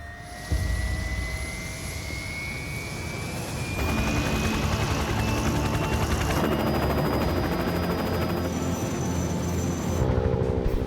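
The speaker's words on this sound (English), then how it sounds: "It's always fun to go for a helicopter flight." A helicopter drones in flight with a steady whine and thumping rotor noise that grows louder partway through, no talking.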